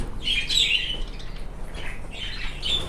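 Domestic fowl in a backyard coop squawk in two loud, harsh bursts, one early and one near the end, with softer chirps and a low rustle between them.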